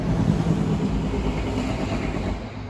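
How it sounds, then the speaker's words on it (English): Cars pass near a forest parking lot, a loud, continuous low rumble of traffic that swells and slowly fades over a few seconds, with no talk. "loud cars going by"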